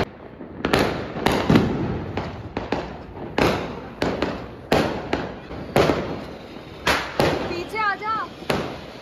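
Firecrackers set off during a family Diwali celebration, a rapid series of sharp nearby bangs and pops with crackling, and a brief whistling rocket near the end.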